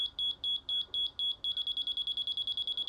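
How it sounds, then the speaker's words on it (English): A laser level receiver beeping: a slower run of separate high-pitched beeps that then quickens into rapid regular pulses, clear and close with no talk. "it not only gives you a light indicator, but it also beeps at you too"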